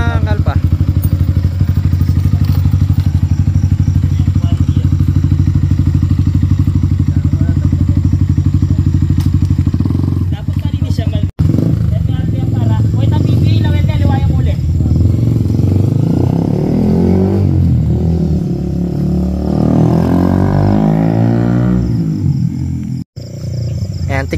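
A Yamaha Sniper 155 v3 motorcycle on a test ride rumbles loudly and close with a steady low drone, its engine note rising and falling through revs, while voices occasionally talk over it.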